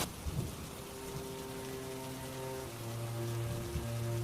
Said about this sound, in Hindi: तेज मूसलाधार बारिश होने लगती है